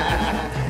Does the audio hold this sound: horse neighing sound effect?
yes